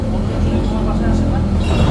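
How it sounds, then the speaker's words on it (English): A New Routemaster double-decker bus on a London street near East Ham, a steady close engine rumble with traffic noise throughout and no clear pass-by peak. "it's one of these buses on the right here."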